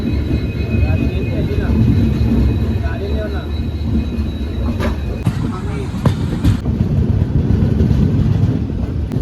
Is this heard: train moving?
yes